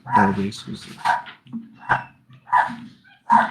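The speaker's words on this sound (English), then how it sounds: "Sorry if you guys hear my dogs barking." A dog barks several times in short, sharp bursts, fairly close, while a person keeps talking over it.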